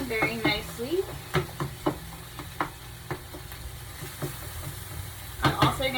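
Food browning in a frying pan, a soft continuous sizzle punctuated by sharp utensil taps and scrapes against the pan, with a person talking briefly at the start and end.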